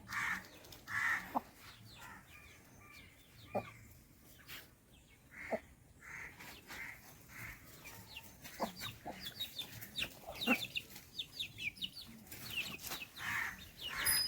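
A Dega rooster offered for sale gives scattered, faint clucks and short calls at irregular intervals over a quiet background.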